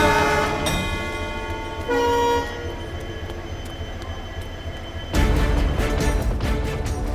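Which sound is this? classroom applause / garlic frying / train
train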